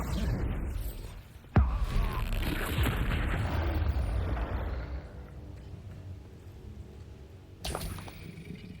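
A Bombarda explosion spell going off in Hogwarts Legacy, a sudden sharp boom at about a second and a half that rolls into a long rumbling roar and dies away, with a second smaller burst near the end.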